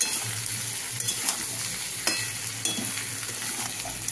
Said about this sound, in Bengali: এবার এটা দিয়ে আমি কষতে থাকবো, ভালো করে কষা হবে